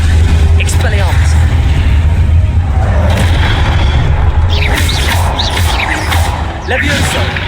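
Expelliarmus spell cast during combat in the Hogwarts Legacy video game, heard as deep booming magical blasts and crashes in a dense, loud battle mix with whooshing effects throughout.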